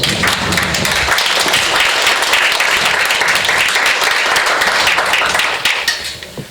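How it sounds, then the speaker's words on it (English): Steady, full applause from the audience at a county port commission candidates forum greets the two candidates, many hands clapping evenly before thinning out and fading near the end. "Let's give them a round of applause."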